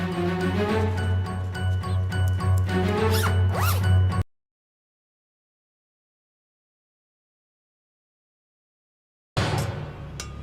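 A bag zipper is pulled open in a fast, rasping run lasting about four seconds, followed by silence, then another brief zipping burst near the end.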